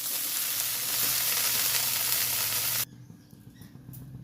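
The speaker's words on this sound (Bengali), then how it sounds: "ফুলকপিগুলো কিন্তু আমার সবকটাই হালকা হালকা ভাজা হয়েছে" Cauliflower pieces crackle as they fry in hot oil, a loud close sizzle that holds steady and then cuts off abruptly near the end, leaving only faint kitchen sounds.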